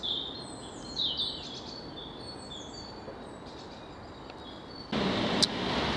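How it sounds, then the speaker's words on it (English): Birds chirping and singing in a quiet woodland spot on a countryside walk away from traffic, a few light, fairly distant calls over a soft rumble, ending with a broad burst of noise. "Plenty of bird song,"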